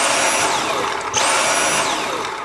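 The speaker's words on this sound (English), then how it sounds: "only thing it does that it gives you a warning is the suction goes in and out" Dyson V7 cordless vacuum running loud and close, its high motor whine dropping and rising again as suction pulses in and out, a warning sign of a blockage or a clogged filter.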